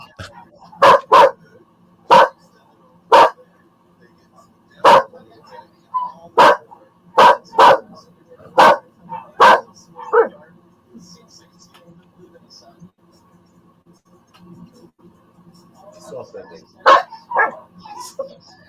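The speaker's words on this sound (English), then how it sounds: "We just kind of fade out with some dog barking" A dog barks in a run of sharp, loud single and double barks at irregular intervals, then pauses for several seconds before a few softer yips and barks near the end.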